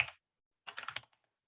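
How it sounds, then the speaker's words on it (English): Short burst of computer keyboard typing: one keystroke, a pause, then a quick run of several clicks trailing off, close and quiet. "you can actually just type your command"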